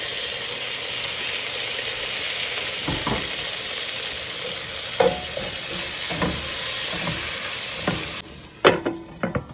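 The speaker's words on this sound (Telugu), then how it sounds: "ఇప్పుడు ఆనియన్స్ ఫ్రై అయ్యి ఇప్పుడు టమాటో వేద్దాము" Onions and tomato fry with turmeric in a pan on the stove, hissing in a steady close sizzle while a spoon scrapes and clacks now and then, and the frying noise drops away near the end.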